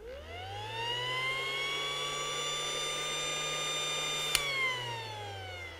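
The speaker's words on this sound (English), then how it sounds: "I also put my hand on top of it. That way it makes a forced rev rate." An electric air pump whines loudly up close with a hand pressed over it, forcing a rising rev; a steady tonal drone climbs briefly, holds, then dips near the end after a sharp click.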